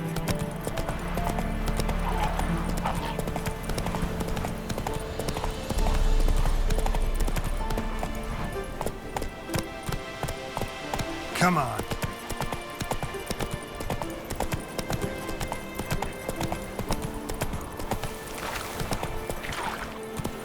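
Hooves of a galloping horse in The Witcher 3: Wild Hunt, a steady clip-clop rhythm running throughout with game music and a short spoken line layered in.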